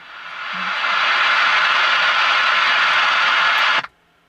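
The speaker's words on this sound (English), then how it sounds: "you notice how the hiss gets louder and louder and louder as when you turn it on" A loud, steady radio hiss of static from an RCA AM/FM radio tuned to a dead band, swelling up over the first second, holding evenly, then cutting off abruptly near the end.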